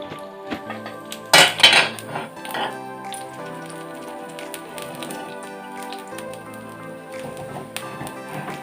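Metal lid set down over a dosa pan while a toor dal dosa cooks, a short clattering clank of metal on metal followed by faint cooking noise and a few light knocks, close and with no talking.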